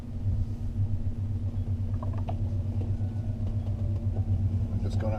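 An electric-converted BMW E31 840Ci driving with regenerative braking, giving a steady low electric drive hum and rumble with faint whine, while someone talks over it.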